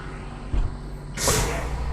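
In the Lone Echo 2 video game a tram releases with a low thump followed by a loud, bright hiss of escaping air that sustains briefly, with no talking.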